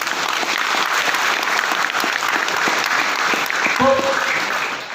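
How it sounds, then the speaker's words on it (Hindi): A seminar audience breaks into loud, sustained applause. A voice briefly rises over the steady roar near the end, and the clapping then begins to fade. "जोरदार ताली होना चाहिए।"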